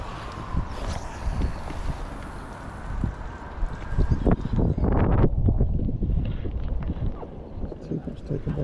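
Wind gusts across an open fishing lake at Gold Valley Lakes during a winter open match, a steady broadband rush with louder buffeting on the microphone in the middle, plus scattered knocks and handling noises nearby.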